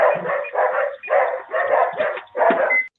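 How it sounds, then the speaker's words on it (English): A dog barks repeatedly outside a home in Sydney, Ohio, five or six loud close barks in an even rhythm with short gaps, no talk over them. "the dog is already going."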